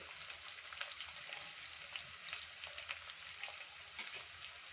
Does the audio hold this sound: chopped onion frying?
yes